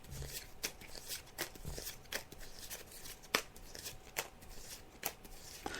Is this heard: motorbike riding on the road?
no